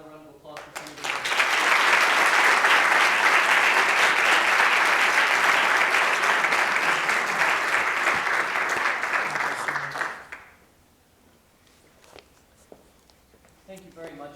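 Warm applause from the audience at a talk by a senator swells after a second and holds strong for about nine seconds, then cuts off, leaving quiet room tone and faint movement.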